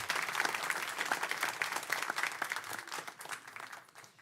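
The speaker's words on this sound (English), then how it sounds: "let's give her a round of applause as well" An audience at a city council meeting applauds in a dense, continuous patter. It is fairly quiet and distant, with no talk, and tapers off over the last second.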